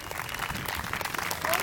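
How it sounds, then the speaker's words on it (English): An outdoor Labor Day crowd applauds the event organizers, a busy burst of clapping mixed with a voice speaking over it. "So everybody, big round of applause for the people who put this together today."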